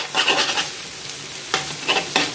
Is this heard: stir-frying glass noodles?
yes